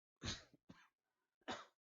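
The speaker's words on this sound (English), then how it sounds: "stupid cough will not go away" Three short, harsh coughs close up, the first and last loudest, separated by brief pauses.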